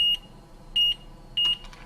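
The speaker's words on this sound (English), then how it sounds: "this is an annoying beeping" Three short, piercing electronic beeps from a continuity tester probing circuit ground points on an electronics workbench, evenly spaced about every 0.6 seconds, each lasting about a fifth of a second, with quiet room hiss between them.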